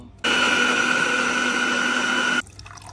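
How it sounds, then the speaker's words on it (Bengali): An electric blender whirs loudly and steadily for about two seconds, pureeing washed amra (hog plum) leaves into juice, then cuts off abruptly. "তো এবার আমি ব্লেন্ডারের ভিতরে দিয়ে দেব"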